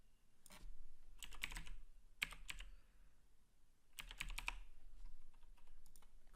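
Soft, close keystrokes on a computer keyboard as a file name is typed, coming in a few quick clusters with brief gaps between them, faint over a quiet room.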